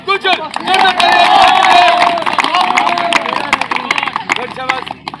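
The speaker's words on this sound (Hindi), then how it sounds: "एक बार फिर जोरदार तालियां इनके लिए।" A crowd applauding and cheering for a long jump athlete at a Delhi Police physical test, a loud, sustained roar of clapping and shouts mixed with someone talking over it.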